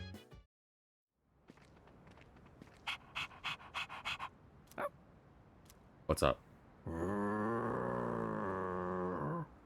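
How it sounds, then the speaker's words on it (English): A dog in the video game Persona 3 Reload pants in short rapid bursts and gives a low growl, sounding close and fairly quiet. Footsteps can be heard, and a brief spoken question comes at the start. "Why you growling like that?"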